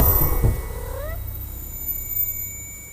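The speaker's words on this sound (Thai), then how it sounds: "ไอแมวเช่นี่ทำกูหลอนประสาทจัดๆ" A cat meows inside the horror game Baby in Yellow, with a rising wail near the start and a few short upward-gliding calls that fade out, leaving low game ambience.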